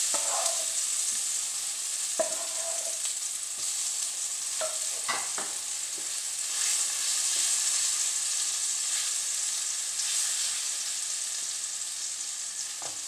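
Pomfret fish coated in freshly ground masala fries on a tawa pan with a steady, crackling sizzle throughout, broken by occasional scraping stirs and light clinks, with no talk.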